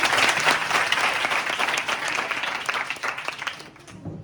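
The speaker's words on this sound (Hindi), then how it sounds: "ताली हो जाए भाई" An audience of students at a government school awareness program breaks into lively applause that gradually thins and fades away at the end.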